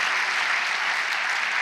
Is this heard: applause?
yes